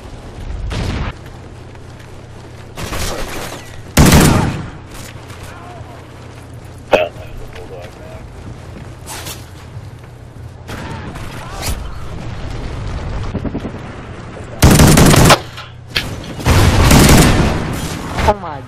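Video game shotgun gunfire fills the scene: several loud, broadband blasts go off at irregular intervals, some single and some in quick pairs, between stretches of quieter game ambience, with a steady low hum running underneath.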